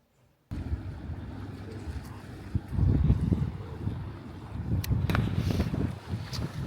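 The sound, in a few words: wind blowing by the sea at the Prado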